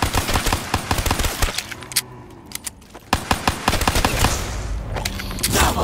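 Rapid gunfire rings out in a Call of Duty zombies match, with fast bursts of close, sharp shots. The firing stops briefly, then resumes just as dense.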